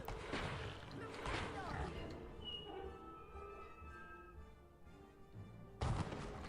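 Spell blasts cast by an enemy in the Harry Potter and the Chamber of Secrets PC game, a few sharp bursts early on followed by a ringing magical tone, with another loud hit near the end amid game sounds.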